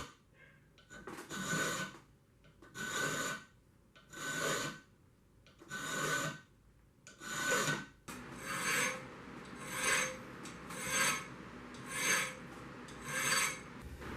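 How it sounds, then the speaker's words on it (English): Round file rasping across a knife spine to cut a rough, jagged rock pattern, in about nine steady back-and-forth strokes, close and clear with short pauses between them. "I have to do some random filing with my round file to make the edges jagged and rough looking"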